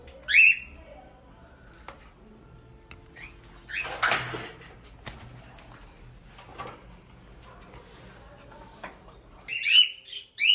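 Bright, short chirps from pet cockatiels, rainbow birds and red doves ring out at the start and again near the end, separated by quieter rustling and a few soft thumps.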